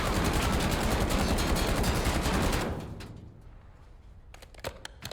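Rapid automatic rifle fire in Warzone, a dense unbroken burst of shots for about two and a half seconds, then a fading tail and a few scattered clicks and thuds.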